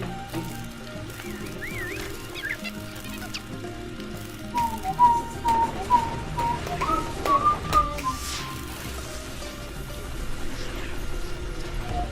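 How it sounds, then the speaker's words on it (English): Someone whistles a tune in short, wavering melodic phrases, fairly close but soft, over a steady background of faint patter and mechanical hum. "I wish I could whistle like 2 notes lower, because then I could whistle this entire song"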